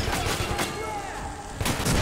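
Explosions and gunfire in Metro 2033, heavy dense blasts with a sustained rumble and a renewed loud burst near the end, filling the whole stretch.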